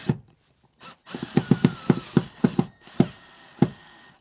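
A self-tapping screw driven through a bamboo ceiling panel into aluminium Unistrut in a 2023 Ford Transit van, heard as a close series of sharp, rhythmic clicking ratchet pulses from a driver, about a dozen taps with short pauses.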